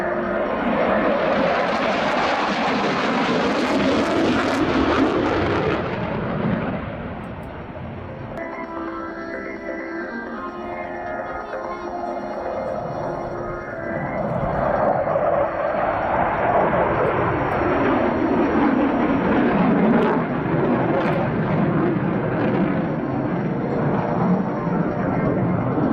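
A combat aircraft flies a turn, its engine roaring loudly overhead, easing off for several seconds, then swelling back to a full, sustained rush.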